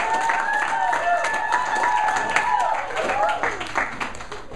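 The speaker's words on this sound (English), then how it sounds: "huge round of applause?" A large crowd at a foundation event applauds and cheers: steady dense clapping with whoops and shouts riding over it, loud and sustained, while a voice carries through the noise.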